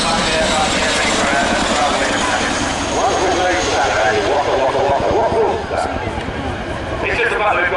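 A Chinook helicopter flying at the Wings & Wheels air show, its loud continuous rotor and engine roar filling the whole stretch while an announcer talks over it.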